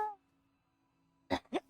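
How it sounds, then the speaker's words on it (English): Two quick, close throat-clearing coughs from one person, a sharp pair of bursts after a short quiet pause, with a faint trailing voice just before. "Slight residual weed cough."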